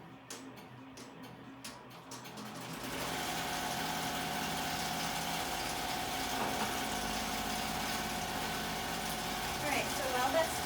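An embroidery machine stitches a fabric mask. It starts with a few spaced mechanical taps, then settles into a steady, rapid, buzzing stitch drone that carries on close and at moderate volume.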